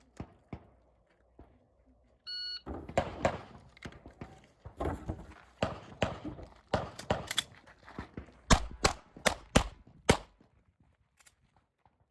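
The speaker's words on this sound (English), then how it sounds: "Let's watch Derek shoot Nakatomi Plaza." Gunshots ring out in a rapid irregular string as a shooter runs a stage at the Silver State IDPA Championship, near and sharp with short pauses between bursts and a tight rhythmic volley toward the end.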